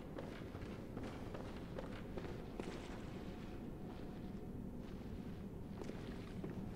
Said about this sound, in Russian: Такое чувство, что я слышу чьи-то шаги.